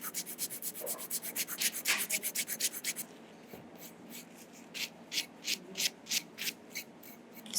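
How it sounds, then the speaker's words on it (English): Steady back-and-forth rasping of a foot file across the heel and sides of the foot during a pedicure, close and alone, quick even strokes that slow into more spaced, separate passes. "once I finish foot filing"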